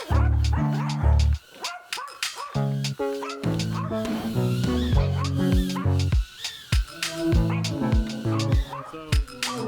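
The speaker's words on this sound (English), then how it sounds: "Popeye's gonna bark." A small dog named Popeye barks and yips excitedly in rapid, high-pitched bursts, close and loud, continuing throughout with some whimpering tones mixed in.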